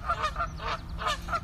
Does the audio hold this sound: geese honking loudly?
yes